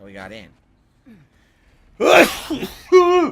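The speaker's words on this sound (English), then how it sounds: "Oh, that was a big sneeze." A single big, close sneeze bursts out after a short spoken phrase, followed by a trailing gasping or voiced exhale.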